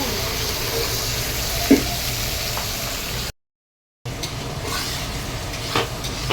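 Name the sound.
potatoes frying in a pan for chicken kosha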